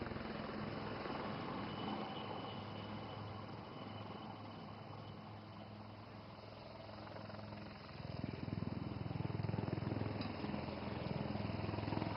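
A military helicopter sweeps in for a casualty evacuation during an air show in Assam. Its rotor and engine make a steady, dense drone that swells louder and closer toward the end, with no voices.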